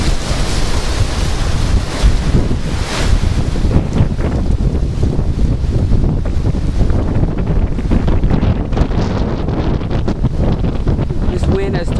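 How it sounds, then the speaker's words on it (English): Cool outflow wind from a supercell thunderstorm with a shelf cloud under a severe thunderstorm warning roars steadily across the microphone, a loud, constant rushing buffet that persists for the whole stretch. "It's cool wind, so this is outflowing."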